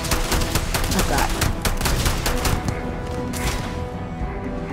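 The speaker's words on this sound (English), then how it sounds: "I literally shot him in the stomach like 60 times" Rapid gunfire in the sci-fi video game Starfield as an enemy is shot over and over, a loud, dense volley of sharp shots in quick succession, tapering off toward the end.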